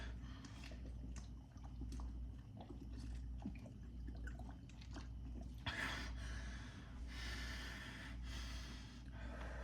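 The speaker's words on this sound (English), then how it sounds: "Gotta get my breathing back in order, dude." Heavy breathing after a treadmill workout, with snorting, gasping breaths and a louder burst of air partway through, close to the microphone and without speech.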